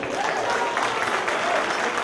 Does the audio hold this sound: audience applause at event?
yes